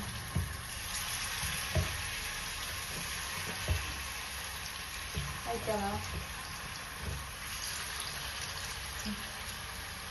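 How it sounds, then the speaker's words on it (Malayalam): Chicken dropped into hot oil in a pan sizzles and crackles steadily, with intermittent stirring clatter and brief voices talking over the frying. "എണ്ണ ചൂടായിട്ട് നമുക്ക് ചിക്കൻ ഇട്ട് കൊടുക്കാം."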